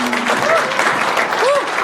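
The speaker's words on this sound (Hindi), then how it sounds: "आप एक बार जोरदार ताली यार।" Audience at a comedy show applauding loudly and steadily throughout, a dense wash of clapping with a few voices calling out over it.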